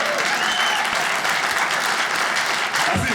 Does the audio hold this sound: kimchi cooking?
no